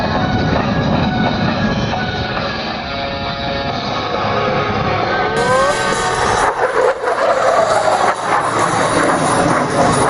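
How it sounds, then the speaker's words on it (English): An F-16 fighter jet climbs straight up at an airshow with a loud, sustained roar and shifting whine, growing rougher and more rumbling toward the end. "Captain Jones will demonstrate the exceptional climbing performance of the F-16 as he climbs 3"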